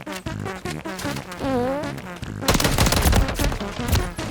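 Rapid automatic gunfire in the video game Modern Warfare III, a short burst of quick shots followed by a denser, louder volley, close and punchy, with game sound effects mixed in.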